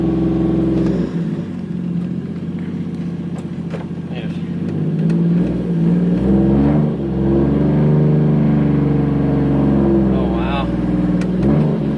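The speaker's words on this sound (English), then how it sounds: "Car's moving under its own power." A 1JZ-swapped Nissan 240SX S14 engine rumbles and revs up steadily as the car drives, loud and close, with people talking over it.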